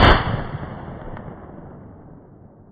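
A single loud rifle shot fired at a deer during West Virginia rifle season, a sharp close blast followed by a long decaying rumble and echo.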